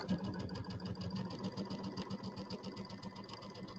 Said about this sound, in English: I'm going to sew these together